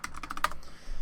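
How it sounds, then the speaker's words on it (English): A few quick clicks of fingers on a computer keyboard, close and crisp, ending in a brief pause with no talk. "we're going to hit N on my keyboard"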